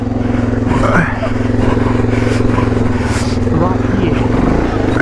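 A TT-R dirt bike engine idles and burbles steadily close by, a rough low drone with slight throttle rises, while people talk over it.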